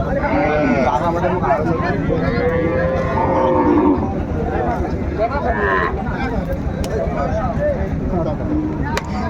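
Several cows with calves moo loudly and repeatedly close by amid a lively crowd at Raniganj cattle market, with people talking and bargaining over the lowing animals.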